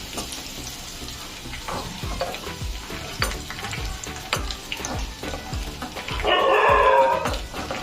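Chopped garlic frying in oil for a jute-leaf lentil dal, with a crackling sizzle and repeated utensil stirring clicks, swelling into a louder hiss near the end.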